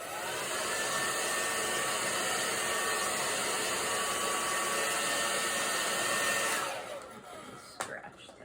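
A hair dryer blows steadily and loudly on a wet watercolor painting for several seconds, a constant close-up whooshing hiss that then switches off, leaving a faint clatter.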